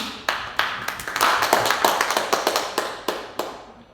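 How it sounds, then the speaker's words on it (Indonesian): Applause from a seminar audience at a civil-servant orientation in Surakarta, a run of sharp, closely spaced claps fading in and out over four seconds with no talking. "Beri tepuk tangan dahulu."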